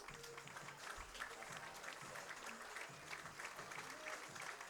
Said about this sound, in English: Nice applause by the Athletic Park crowd.